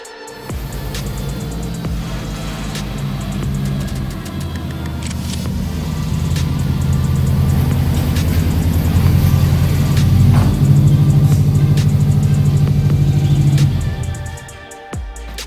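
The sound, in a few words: Subaru Impreza WRX wagon engine running, warming up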